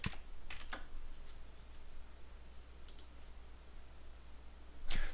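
Clicks of keys on a computer keyboard while entering an alignment label in Civil 3D software, a few sparse taps spread over a quiet background with a brief cluster at the end.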